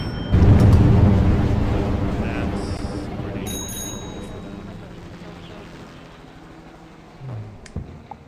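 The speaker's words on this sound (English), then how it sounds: "We're dropping bombs over there." Bombs dropping in the zombie strategy game Atom Zombie Smasher: a loud, deep boom opens the scene and rumbles down slowly, with chimes and small blips above and a few short thuds near the end.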